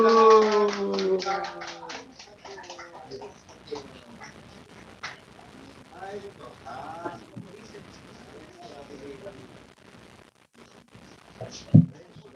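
A church congregation claps during a Korean service: a run of light, rapid clapping follows a voice, then scattered claps and chatter, ending with one sharp clap.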